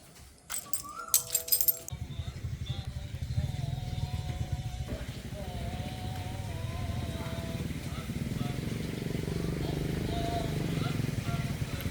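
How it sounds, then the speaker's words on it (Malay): A motorcycle is ridden on a road during the Eid al-Adha holiday. After some brief clatter at the start, its engine runs as a low, steady hum that gradually grows louder, with faint voices and a festive chant in the background. "pergi naik motor."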